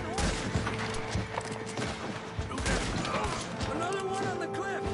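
Red Dead Redemption 2 gunfight: dense gunfire and mechanical clatter over loud, busy game sound, with music and chaotic noise throughout.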